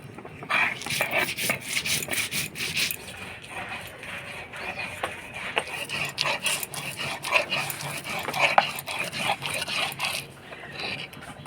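White mustard seeds, four green chillies and a little salt ground together into a paste, heard as steady, rhythmic rasping scrapes close by that continue throughout.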